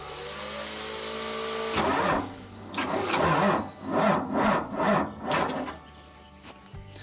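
A big diesel engine in a logging skidder, started for the first time in years, cranks and catches, then revs in several loud surging bursts close by before settling to a rough idle.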